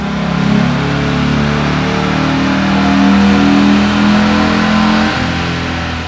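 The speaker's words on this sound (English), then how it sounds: "Now we're going to do a stock dyno run to see what our horsepower and torque numbers are." A stock 2000 Ford Mustang with a 3.8-litre V6 and automatic transmission on a dynamometer, engine roaring loud and steady as it pulls through the revs, with no talking.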